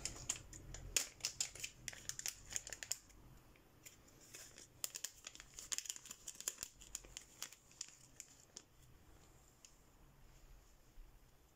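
A small plastic pouch of stickers is opened by hand, making soft, faint crinkles and sharp little rustles in irregular bursts at close range, with the crackling thinning out toward the end.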